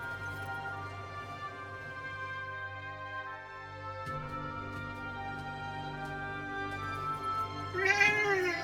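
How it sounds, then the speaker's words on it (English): Cat meowing inside the video game Forspoken, a few soft meows near the end over a steady bed of layered game music and ambience, with no talk. "Hey, that cat."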